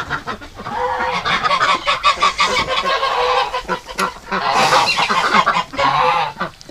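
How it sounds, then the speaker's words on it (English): A duck honks loudly and repeatedly at close range in a farmyard during egg collecting, the calls coming in a dense, continuous run with brief gaps. "I wonder if that's the same duck."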